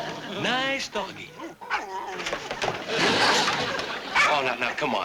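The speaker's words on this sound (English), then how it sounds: "Nice doggy." A dog whimpers and yips in rising, whiny cries, mixed with barks and a person talking nearby.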